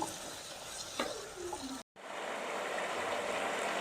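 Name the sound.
sautéing onions on high flame for kuska biryani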